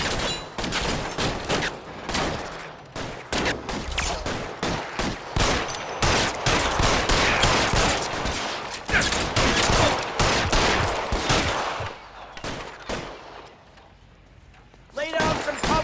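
Rapid gunfire fills a shootout in L.A. Noire, with dense bursts of shots crackling nearly nonstop, a brief lull near the end, then more shots, while voices talk over the fighting.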